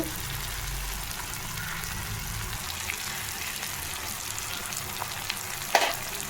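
Dry fish curry cooking in a generous amount of oil, giving a steady, close sizzle with stirring throughout and a sharp clink near the end.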